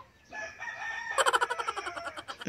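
A rooster crows loudly nearby, then rapid clucking from chickens follows in a quick rhythmic series.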